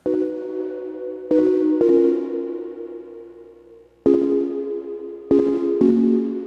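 A synth on an Ableton Push 3 plays sustained tones that ring out with a long reverb tail, four separate hits each decaying slowly, with no one speaking.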